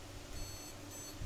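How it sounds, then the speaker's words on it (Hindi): A buzzer on an ASUS H110M CS motherboard sounds a RAM error beep, a thin high steady tone over quiet background hum, followed by a short low thump at the end. "ये जो रैम का एरर अभी बीप आप सुन रहे हो"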